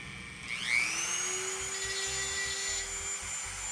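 A small bit in a high-speed rotary tool drilling a hole in a model car body, a shrill whine ramping up to speed, then a steady close high-pitched drone with a low buzzing motor beneath, no talk.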